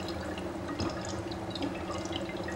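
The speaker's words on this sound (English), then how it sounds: "if you listen to the bubbles, you have some kind of music in your ears" Dry ice sublimating in a container of liquid, giving a continuous close bubbling and gurgling with small drip-like pops throughout.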